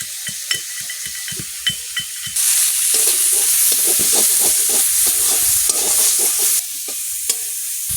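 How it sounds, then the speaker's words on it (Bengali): Fish frying in hot oil with turmeric, a loud steady sizzle that swells sharply in the middle and drops back, with scattered utensil clicks and stirring taps before and after. "হলুদ গরম হয়ে গেছে মাছ ভেজে নেব"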